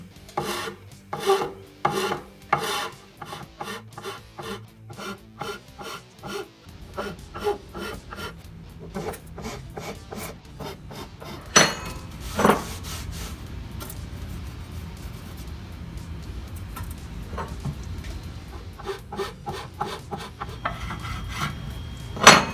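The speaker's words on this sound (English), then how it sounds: "I'm gonna wipe off some of the excess glue and then take a file to it. The filing actually goes pretty quick" A hand file rasps back and forth over glued side dots on a homemade wooden guitar neck, the close strokes rhythmic and even at first, then giving way to softer, irregular scraping and rubbing.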